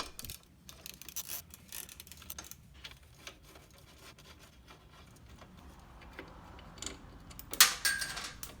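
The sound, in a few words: metal shim dropping during motorcycle chain guard removal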